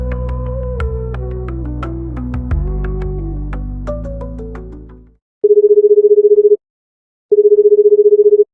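A telephone line's buzzing tone plays in two steady, evenly pulsed bursts with a pause between them, following a fading stretch of piano-like musical notes, loud and close with no talking.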